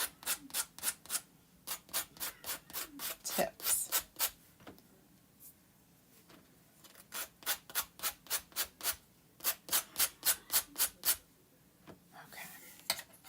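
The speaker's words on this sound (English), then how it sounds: "Let's do a little sanding on these" Rapid rhythmic rasping strokes of sandpaper rub back and forth by hand over a painted surface in bursts, close and fairly quiet, with a brief pause midway.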